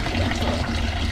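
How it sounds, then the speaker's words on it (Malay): Water pours into a fish container in a brief, steady rush of splashing liquid that is fairly loud and close, with no talk. "So kita isi air kat ikan"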